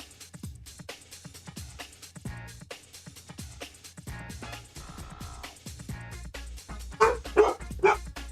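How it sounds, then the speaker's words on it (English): A dog in a video game bursts out barking, a run of sharp barks and yips growing louder toward the end over a busy game soundscape of footsteps and effects. "The dog just fucking ran out barking."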